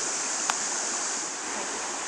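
Steady broadband rush of the Apple River stream flowing, a constant close wash of water with one brief faint tick, no voices.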